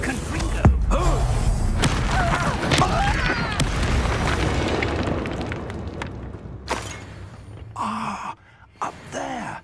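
A Confringo fire spell cast in Hogwarts Legacy bursts into a booming, rumbling blast that decays over several seconds, followed by a few quieter thumps and effects near the end.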